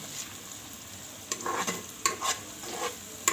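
A few scraping stirs of bitter gourd frying in a hot rice cooker. Low sizzling runs underneath, and several sharp spoon scrapes and clinks come up close, with no speech.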